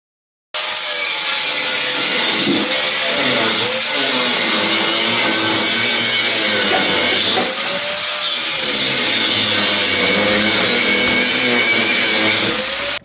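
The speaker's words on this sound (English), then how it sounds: "Quick little grind there," An angle grinder works on the front end of a 1967 Ford F100 truck, a loud continuous whine with rising and falling pitch as the disc bears down on the metal, running steadily from start to finish.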